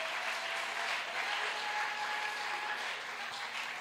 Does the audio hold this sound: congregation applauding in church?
yes